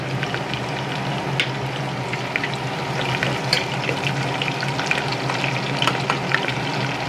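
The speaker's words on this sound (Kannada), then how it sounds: "ಈಗ ಹಸಿಮೆಣ್ಸಿನ್ಕಾಯಿ ಹಾಕ್ತೀನಿ ಸ್ವಲ್ಪ ಆರು ಹಸಿಮೆಣ್ಸಿನ್ಕಾಯಿ ತೊಗೊಂಡಿರೋದು" Six green chillies frying in hot oil for menthya bath, a steady close crackling sizzle with small pops and spatters running throughout without pause.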